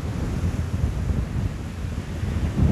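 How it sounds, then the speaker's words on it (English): Big, strong ocean waves break and wash on a South Wales beach at Ogmore, a low surging roar mixed with gusty wind buffeting the microphone. "Waves are pretty big though."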